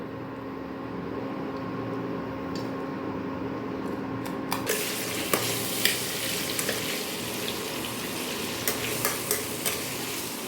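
Sliced jackfruit (echor) and vegetables hit hot oil in a pan and burst into a loud, continuous sizzle after a quieter start, with crackles and occasional stirring clicks through the rest.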